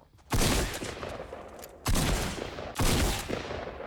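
Video game gunfire in a team shooter match, three loud bursts of shots, each starting sharply and trailing off, close and alone with no voices.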